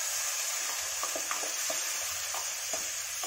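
Finely chopped tomatoes, four medium ones, frying in oil in a kadhai for kadhai chicken, a constant bright sizzle with soft irregular stirring clicks, close and even.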